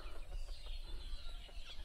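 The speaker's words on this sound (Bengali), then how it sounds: "মুরগি করতেছে।" A chicken in a Bangladeshi village near rice fields and mud houses gives soft, faint clucks over a noisy outdoor background.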